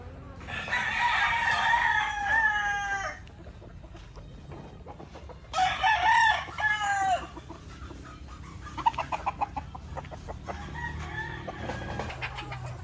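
White Kelso hens cluck and cackle in bursts, with a rooster-like crow early on, over a steady farmyard background hum in a free-range area.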